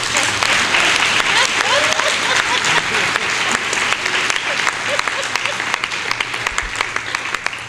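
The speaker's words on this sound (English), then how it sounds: "So let's give a round of applause for Tara because she was the one for this year." Sustained applause fills the room as an audience honors the Volunteer of the Year, a dense, steady wash of many hands clapping close by for several seconds.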